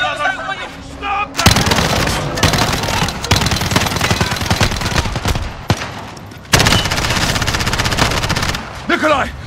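Rapid automatic gunfire and bursts of shots fill the clip loudly, with brief pauses and shouting voices mixed underneath, an intense Call of Duty firefight on PS5.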